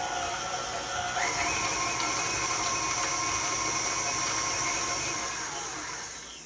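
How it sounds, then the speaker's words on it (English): A stand mixer with a whisk attachment whisks cream cheese for a no-bake vanilla cheesecake. Its motor gives a steady, continuous whir, loud and close, with no talking over it. "we're just going to go ahead and start it with the whisk attachment"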